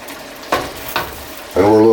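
Fideo vermicelli noodles cook in a pot with a loud sizzle, broken by a couple of short stirring scrapes before a strong burst of frying hiss rises near the end.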